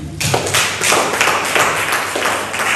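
An audience in a lecture hall applauds together, a dense steady wash of clapping that starts just after a brief pause and holds strong and close throughout.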